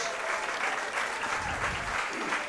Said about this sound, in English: A nice round of applause to Mr.